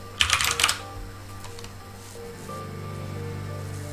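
Brief burst of rapid keystrokes on a computer keyboard, entering a mainframe user directory for VM/370, then quiet room hum with no talking.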